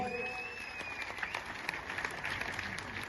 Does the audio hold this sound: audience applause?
yes